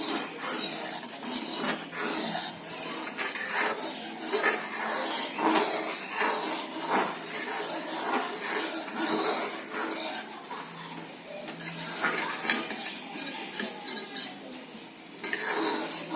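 Mango kheer stirred in a pot as it thickens, continuous scraping and clinking of a spoon against metal in an uneven rhythm, close and moderately loud.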